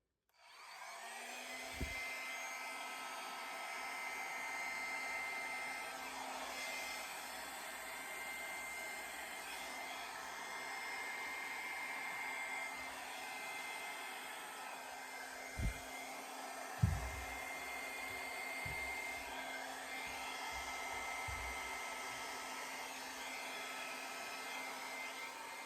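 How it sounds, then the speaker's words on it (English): New hair dryer on its low setting, blowing while mixing acrylic paints, a steady whirring fan drone lasting the whole stretch at moderate level, with a few brief knocks and handling bumps, no talking. "let's use the new hair dryer. I'll do it on low for now"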